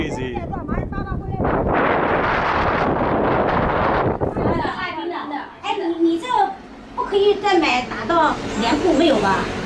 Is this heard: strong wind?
yes